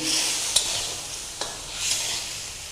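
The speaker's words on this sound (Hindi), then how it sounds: "अब इस ऑयल में हम इसे 3 से 4 मिनट अच्छे से भून लेंगे।" Mutton pieces frying in hot oil in a karahi, a steady close sizzle with a few soft stirring scrapes and no voices.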